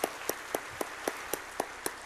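Hands clap in a church service to welcome a visiting missionary. About eight evenly spaced, fairly faint claps beat in a steady rhythm, with no talking.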